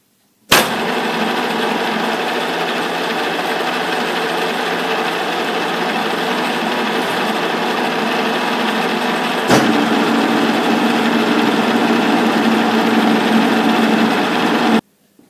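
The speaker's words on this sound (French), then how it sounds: "je vais refaire une rainure de 4 mm de profondeur." A milling machine cuts a 4 mm deep groove in a metal profile with a 5 mm cutter, producing a loud, steady whine and hum that starts with a sharp click and runs unbroken for about fourteen seconds.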